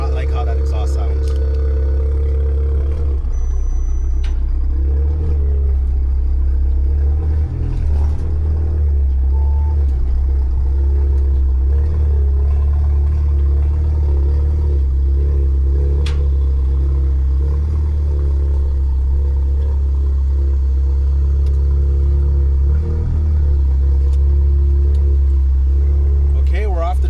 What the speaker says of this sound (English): I do not like how that exhaust sounds.